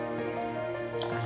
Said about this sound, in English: Now we're gonna put in the water.